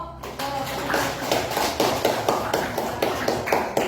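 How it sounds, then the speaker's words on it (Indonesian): A classroom group claps hands for a student team, a steady run of broadband claps rising partway in and continuing evenly throughout, fairly close and loud with no talk over it. "Tepuk tangan dulu untuk kelompok Sobo."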